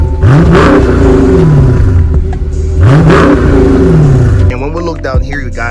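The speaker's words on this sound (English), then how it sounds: "let's go revving up the engine" A 2021 Dodge Challenger Scat Pack with the 392 engine revs hard twice, each blip climbing sharply and falling back to a loud burbling idle, close and powerful, with a voice talking over the idle at the end.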